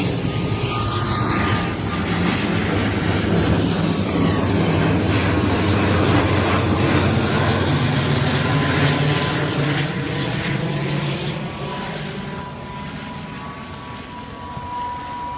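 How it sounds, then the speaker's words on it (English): An airplane flies under the northern lights near Yellowknife, Canada, its loud steady engine roar holding for most of the stretch, then easing off toward the end with no talking. "there's literally a plane flying next to the Auroras"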